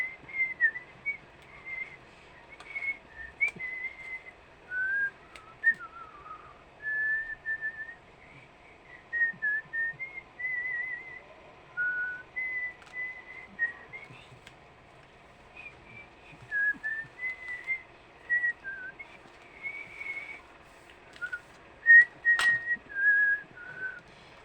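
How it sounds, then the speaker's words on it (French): A person whistles a meandering tune in short, bright phrases with brief pauses between them, fairly close and clear over quiet room noise, with occasional faint clicks and one sharp tap near the end. "un petit coup de sifflet"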